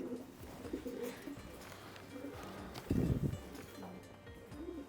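Domestic fancy pigeons at a pigeon fancier's loft give low, throaty coos up close. The coos repeat in short rounds, with one louder burst of cooing near the middle.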